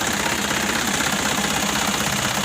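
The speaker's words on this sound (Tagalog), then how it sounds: "nakaandar na po yung makina natin" Right after an oil and filter change, a diesel engine idles with a loud, steady, even running drone that continues unbroken throughout.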